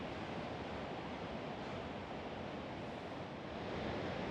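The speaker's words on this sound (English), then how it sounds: "And it's really wonderful to see all these waves rolling in." Ocean waves roll in as a steady, broad wash of surf, with some wind across the microphone, continuous and fairly soft, without speech.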